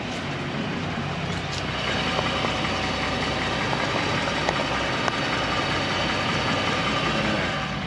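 A 2020 Ford Raptor truck engine idles steadily close by, a constant low rumble with a faint high whine running through it and a few tiny clicks, with no talking.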